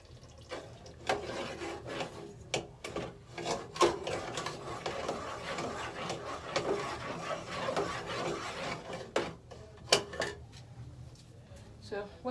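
Stew stirred in a pot, with irregular scraping and knocking of a spoon against the pot's sides, soft rubbing in between, at close range throughout.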